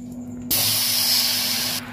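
Jaggery dropped into a hot wok on a gas stove sets off a loud, sudden hiss that holds steady for over a second and then stops abruptly, with a low hum underneath.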